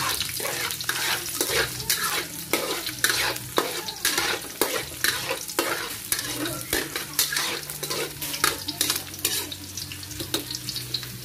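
Garlic and onion sautéing in a pan, a steady sizzle under a regular rhythm of spoon strokes scraping and stirring, close and fairly loud with no talking.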